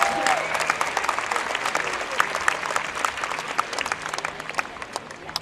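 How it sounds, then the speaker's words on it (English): Crowd at a SeaWorld San Diego orca show applauding in a big outdoor stadium, a broad, somewhat distant patter of many hands with individual claps popping out. The clapping slowly thins toward the end. "giving him a big round of applause"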